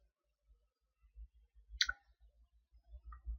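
Mouse clicks in a real-time strategy game, a sharp click near the middle with soft faint ticking around it, quiet and close, no talking.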